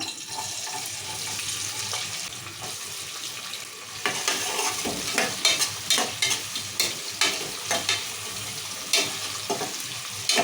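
Onions fry in oil in a pan, a steady sizzle joined midway by louder rhythmic stirring scrapes that repeat every half second or so.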